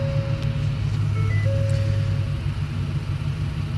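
A 2015 Ford F-250 XLT crew cab with a 6.2L V8 running at steady idle, a loud, even low engine rumble with a thin high tone from a beep or belt above it, no voices.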